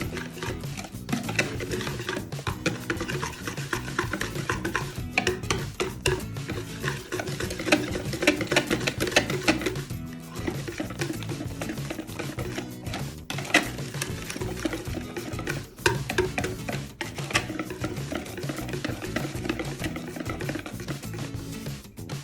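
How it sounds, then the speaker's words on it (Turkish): Brownie batter with melted chocolate mixture being whisked in a bowl, a steady, continuous scraping and swishing that runs close and even throughout, with no voices over it. "Şimdi güzelce çırpıyorum."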